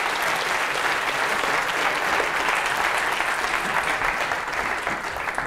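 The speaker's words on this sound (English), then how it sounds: "Okay, let's give them a round of applause." A lecture audience gives a loud, continuous round of applause, thick, even clapping from a full room lasting several seconds without a break.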